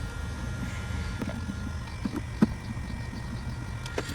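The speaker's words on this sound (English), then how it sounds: "You can hear a nice V6 in the background." A V6 car engine idles somewhere in the background, a low, steady rumble held under the outdoor ambience, with a few faint knocks and clicks nearby.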